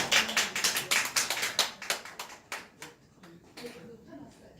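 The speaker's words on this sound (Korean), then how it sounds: "네, 힘찬 박수로." Enthusiastic applause at the opening of a Korean history school lecture: a fast run of close, crisp hand claps that gradually thins and fades toward the end.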